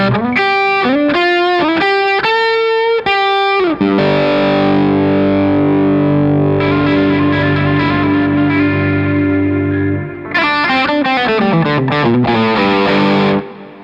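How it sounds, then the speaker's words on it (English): Electric guitar through a GFI System Skylar reverb pedal in ramp mode with Motherload distortion: staccato distorted notes, then a long swelling reverb wash building and sustaining before choppy notes return. "You can hold down the left foot switch and the pedal will ramp up to a high level."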